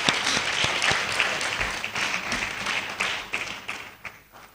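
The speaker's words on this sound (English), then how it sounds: "Please, let's give him a round of applause again." Sustained audience applause at a memorial lecture, a dense steady round of clapping that fills the room before gradually thinning and fading toward the end.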